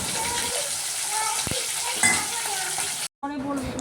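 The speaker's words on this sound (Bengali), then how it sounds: "আমি মাছ ভাজা বসালাম" Parshe fish fry in a pan with a continuous close sizzle, a few clicks and scrapes from stirring, and a very brief dropout near the end.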